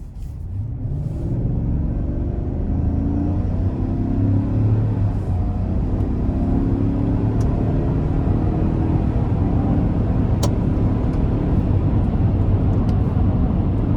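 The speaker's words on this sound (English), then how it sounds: "I'm just gonna give it a little acceleration." A 2025 Chevy Suburban LS with a 5.3 V8, heard from inside the cabin, accelerates gently with a steady, low engine drone and road rumble that slowly rises in pitch, without any sharp revving.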